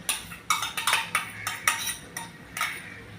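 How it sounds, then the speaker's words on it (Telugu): Metal spoon scraping and clinking against a pot while chicken biryani masala is stirred, a steady series of sharp close-up scrapes and knocks with no voices. "ఇది బాగా ఒకసారి మిక్స్ చేసుకోవాలి"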